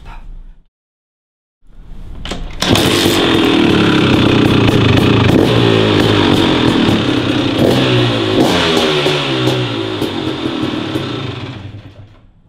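A 2023 GAS GAS 250 two-stroke motocross engine barks to life after a brief pause and revs hard and raspy up close, sustained for several seconds before fading.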